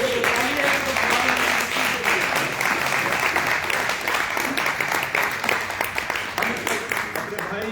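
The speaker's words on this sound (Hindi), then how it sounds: "तालियां बजाएं।" A church congregation at a Sunday service applauds in steady, dense clapping that lasts the whole stretch, with voices audible beneath it.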